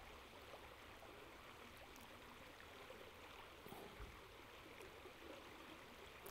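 Stream water running steadily around a flow rate sensor dipped into it, a faint, even wash with slight gurgles and no voices.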